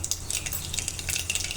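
Mustard seeds and cumin crackle and sizzle in hot oil for a Gujarati stuffed-vegetable tempering, a dense close-up hiss of fine pops and spits with no talking.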